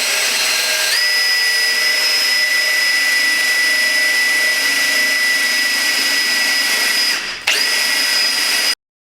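A power drill bores into a copper plate set on an old plastic container, a loud, steady high whine that starts abruptly, holds, briefly dips in pitch, then stops dead.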